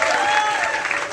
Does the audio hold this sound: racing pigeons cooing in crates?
no